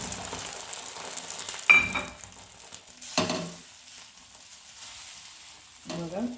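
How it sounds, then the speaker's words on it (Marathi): Egg batter is poured into hot oil in a pan, giving a faint, quiet sizzle broken by a few brief louder splashes and scraping touches. "तर ही पण अंडे ओतूया आपण ह्यात."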